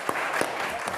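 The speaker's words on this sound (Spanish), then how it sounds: "María José Saldívar, para que la aplaudan." An audience at a panel discussion on business ethics claps for a speaker being introduced, a brief burst of scattered applause with a few distinct individual claps standing out.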